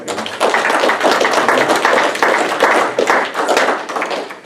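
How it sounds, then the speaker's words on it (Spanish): Dense, steady applause from a church congregation, many hands clapping together loudly and continuously for several seconds. "damos otro aplauso al Señor"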